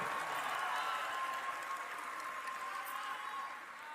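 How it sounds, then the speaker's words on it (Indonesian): Steady, dense applause from a crowd at a political rally marking 25 years of Indonesian reform, holding at an even level for a few seconds, faintly distant in a large gathering. "Tepuk tangan untuk para pejuang reformasi kita."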